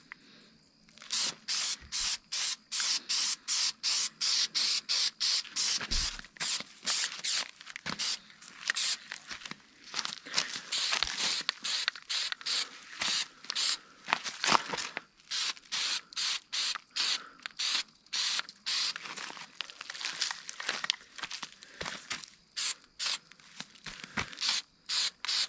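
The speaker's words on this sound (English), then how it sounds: "I'll do a little test spray first." Aerosol spray paint hissing from a can onto an insulated Canadian Forces military surplus canteen pouch, dozens of short close bursts in a quick, uneven rhythm with brief gaps between them.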